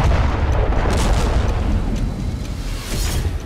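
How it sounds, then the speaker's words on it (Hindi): A rocket strike on an apartment parking area in Haifa, heard as a heavy boom with sustained rumbling roar and debris-like crackle, loud and close, fading slightly toward the end. "एक रॉकेट अपार्टमेंट की पार्किंग में गिरा, जिसके बाद जोरदार धमाका देखा गया।"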